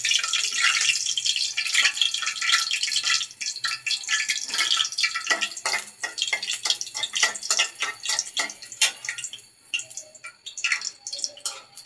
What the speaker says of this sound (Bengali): মরিচটা একটু ভেজে নিচ্ছি, বেশি নয় কিন্তু